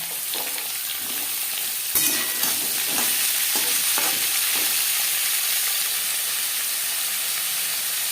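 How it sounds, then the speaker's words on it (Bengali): Moringa drumsticks stirred and frying in a pan for a vegetarian chorchori, giving a steady close sizzle and hiss with occasional scraping stirs. "এক দু মিনিট নাড়াচাড়া করে নেওয়ার পর দিয়ে দেবো সজনেটাকে"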